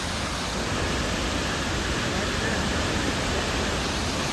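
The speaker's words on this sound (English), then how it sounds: "Insane freaking waterfall, spillway, whatever this is." Water rushes steadily over a concrete spillway, a loud, continuous roaring wash that fills the whole clip without a break.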